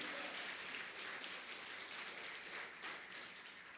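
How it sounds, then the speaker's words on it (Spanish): Congregation applauding during a Spanish-language church service, a dense, even patter of many hands at moderate level, continuous for a few seconds and fading slightly toward the end. "Denle un fuerte aplauso al Señor."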